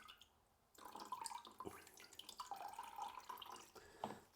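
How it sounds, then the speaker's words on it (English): Water trickles and drips from a leaking drain valve on a car radiator, a faint, close, irregular splashing that comes and goes with no voices. "Right, still a bit of water coming out."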